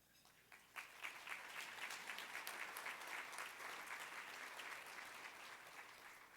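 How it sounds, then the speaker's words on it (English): Applause from an audience at the Inner City Law Center annual awards luncheon starts with a few scattered claps, then swells into steady, fairly faint clapping from a crowd that holds for several seconds. "so I appreciate the applause"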